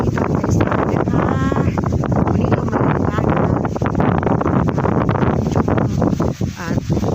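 Strong wind blows through grass and trees outdoors, a loud, constant rushing with rustling and heavy microphone buffeting throughout.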